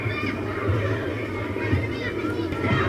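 Children at play, a busy murmur of young voices and shouts heard through Sony WF-1000XM3 noise-cancelling earbuds, dulled but steady and continuous throughout.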